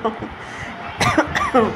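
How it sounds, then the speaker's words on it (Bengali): Coughing from smoke given off by Kashmiri red chilli powder in a hot pan, several harsh close bursts in the second half, mixed with voiced throat sounds. "পুরো কাশি হয়ে গেল ধোঁয়ায়"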